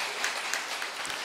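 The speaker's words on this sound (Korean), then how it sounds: "하나님께 영광의 박수 보내겠습니다" A church congregation at a New Year's Eve worship service applauding, a steady patter of many hands clapping that fills the room at a moderate level, with no distinct voices.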